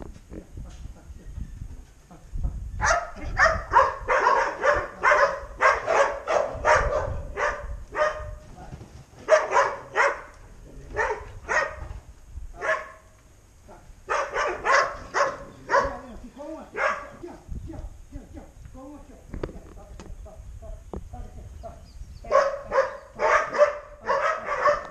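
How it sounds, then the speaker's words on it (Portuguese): A dog herding horses at the end of a festival day barks in repeated bursts, fairly close and loud, with speech and voices heard alongside. "Olha o cachorro tocando os cavalos."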